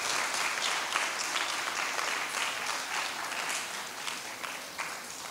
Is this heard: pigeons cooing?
no